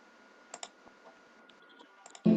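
A computer mouse is clicked a few times in a game-making setup, small sharp clicks spaced through a quiet room hum, ending with a louder low thump.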